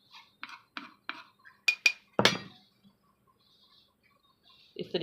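Green chutney made with anardana and pudina being scooped into a serving dish, several light clinks of utensils against the bowl in a short series, then a louder scrape and clatter, close and alone.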